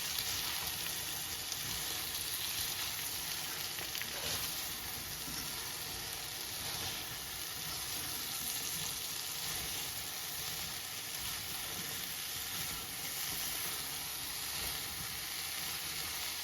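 Corned beef and cabbage frying in a pot give off a steady, even sizzle and hiss that holds for the whole stretch at low volume, with no voices.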